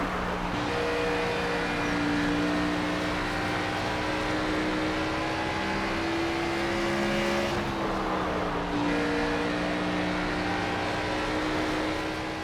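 NASCAR race cars lap Bristol in NASCAR 25 with a loud, steady engine drone, the pitch climbing slowly, briefly dipping, then holding high and constant.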